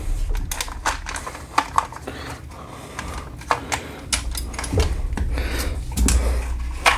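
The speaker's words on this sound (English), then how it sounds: "firing control group just comes out like that" Tavor X95 rifle being field stripped, its fire control group pulled free in a run of sharp metallic clicks, snaps and rattles, close and fairly loud, with faint low handling noise underneath.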